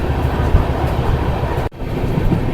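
A freight train crossing on the electrified double-track Rajkot–Jamnagar line: a steady, loud rumble of rolling wagons close by, with one abrupt dropout partway through before the rumble resumes, and no talk.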